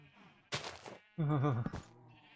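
Sheep in the Minecraft video game bleat in two clear calls, the second longer and wavering, close and crisp, with short soft clicks around them and no talking.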